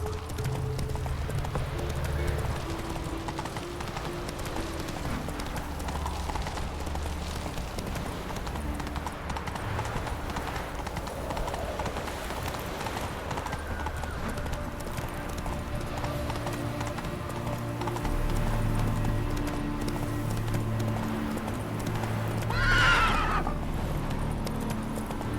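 Hooves of Roach, the horse in The Witcher III, clip-clop in a continuous gallop beneath low game music and ambience, with a short neigh-like swell near the end; steady rhythm, close by.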